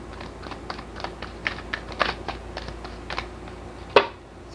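Tarot cards are shuffled by hand, a string of quick, soft papery clicks and flutters close by, ending in one sharper snap.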